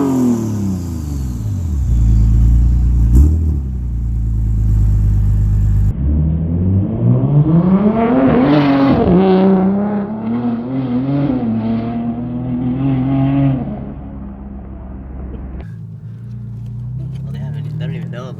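A Toyota MK5 Supra fitted with a fully custom exhaust modeled on the MK4 Supra accelerates hard, its loud engine note rising through revs with a brief shift dip, then easing off; voices can be heard alongside.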